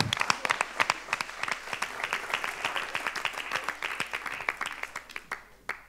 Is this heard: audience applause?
yes